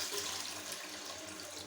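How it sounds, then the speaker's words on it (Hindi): Water pours steadily into a pressure cooker holding washed chana dal lentils, a soft, continuous splashing stream close by with no talking. "सबसे पहले हम इसमें इतना पानी डालेंगे कि दाल अच्छे से गल जाए।"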